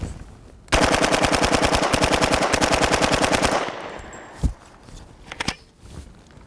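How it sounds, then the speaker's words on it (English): A UMP45 submachine gun loaded with incendiary .45 ACP rounds fires one long fully automatic burst of rapid, evenly spaced shots, loud and close, followed by a few scattered clanks and thuds as the shooting stops. "we're going to test out our UMP."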